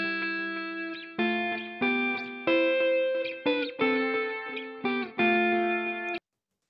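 Clean guitar notes with shallow modulation and an eighth-note plex delay at a low mix, a steady line of picked single notes ringing out up close, then stopping abruptly.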